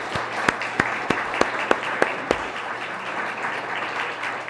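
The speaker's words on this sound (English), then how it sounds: "How about a round of applause for our first candidates?" Audience applause for Ward 1 candidates at a candidate forum, a dense steady wash of clapping with a few sharp individual claps standing out early, moderately loud and continuous through the clip.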